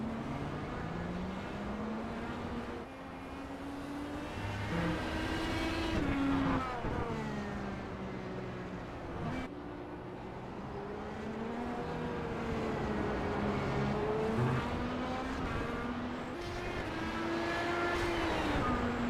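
Race car engines from a Nürburgring Grand Prix racing video game, a continuous loud droning whine that rises and falls as the cars rev and shift, with layered engine tones throughout and no talking.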